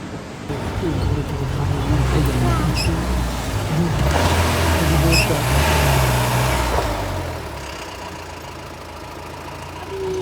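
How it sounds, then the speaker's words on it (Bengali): A car engine hums steadily inside the vehicle as the driver shifts gear on a mountain road toward Manang, Nepal. The engine note swells and eases, and voices chat over it. "ওয়ান হ্যান্ড ড্রাইভার এখন গিয়ার চেঞ্জ করলো।"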